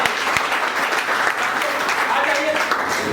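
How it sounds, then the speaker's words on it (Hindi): Loud, sustained clapping from a leaders' meeting audience fills the hall, with some voices mixed into the applause. "एक बार जोरदार ताली।"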